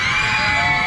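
Riders scream together on a roller coaster at a French amusement park, a loud sustained chorus of high shrieks heard close and steady without a break.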